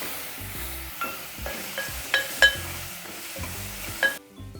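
Tomatoes sauté in a pan while a spoon stirs them for a plain moong dal, a soft sizzle under repeated scraping and clinks of utensil against metal.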